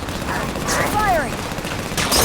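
Gunfire from the Halo 5: Guardians video game in a brief burst of shots during a firefight, with a whooshing projectile sound midway and a voice speaking over the action.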